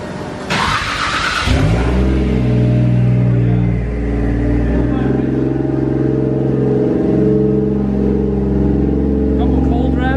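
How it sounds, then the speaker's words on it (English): A Nissan 240SX with a straight-pipe exhaust starts cold and revs, a loud, close engine rumble with a couple of rising revs and a steady raspy idle between them; a voice speaks over it. "Couple cold revs."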